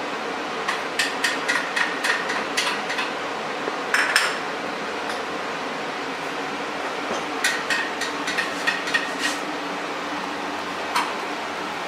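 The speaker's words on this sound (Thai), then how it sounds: "เราก็ใส่กระเทียมกับพริกสดนะครับลงไปผัดก่อนเลยนะครับ" Garlic and fresh chili stir-fried in hot oil, with sharp clinks of a utensil on a pan or wok coming in short bursts over a faint steady background.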